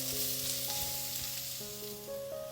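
Green chillies and onions frying in a pan toward dark brown, a continuous soft sizzle with faint hum in the background, no talking.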